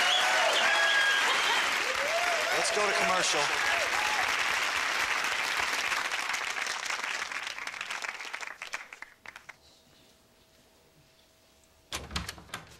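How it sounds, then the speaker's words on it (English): Loud studio audience applause on a TV sketch comedy set, a dense wash of clapping that fades out over about nine seconds, followed by a short burst of speech near the end. "No, cue applause."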